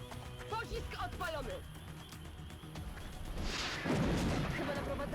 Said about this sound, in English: We take a rocket hit here.